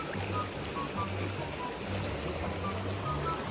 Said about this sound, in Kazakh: қатты су ағып жатыр ғой